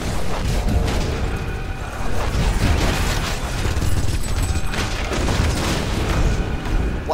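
Bomb explosions in Marvel: Ultimate Alliance 2, a dense, loud barrage of booming blasts and rumbling over continuous game noise.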